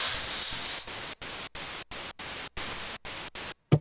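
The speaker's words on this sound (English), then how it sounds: "this synthesizer actually has a noise generator" A synthesizer's noise generator gives off bursts of white noise, gated into a rapid series of short, evenly spaced hisses that end in a brief thump.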